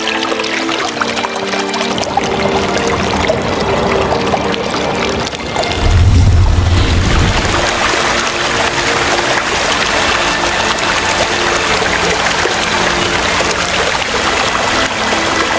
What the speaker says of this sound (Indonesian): air yang tumpah dari kendi itu berubah menjadi aliran air yang deras